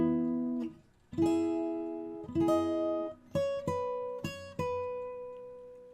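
Fingerstyle acoustic guitar plays a few bars of a song, with plucked notes and chord strums in a lilting, syncopated rhythm, clear and close, with no voices.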